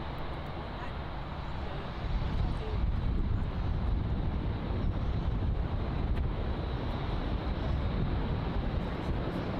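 A DC-8 on approach to land at Miami International Airport, heard as a broad, steady engine roar that swells slightly after the first couple of seconds and mixes with wind rumble.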